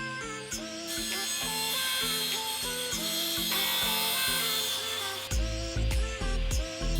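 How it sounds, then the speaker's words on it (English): A table saw cutting wooden sheet material for a classic Mini interior, a steady loud whine running throughout with the pitch shifting as the blade works through the board. "This is where the table saw is introduced to begin the cutting process."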